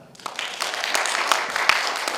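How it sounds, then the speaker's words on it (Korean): A packed audience in a Korean lecture hall at a cultural center breaks into steady, dense applause that swells quickly and holds at a moderate level. "조금 전에 MC가 이렇게 박수치는 연습을 시켜줬더니 제대로 하네요"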